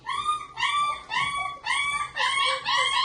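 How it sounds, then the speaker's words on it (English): Several puppies in their pens after breakfast, yipping, whining and howling in a close, busy chorus of high rising cries that overlap one another with short gaps, and no talking. "you're going to hear the puppies be active"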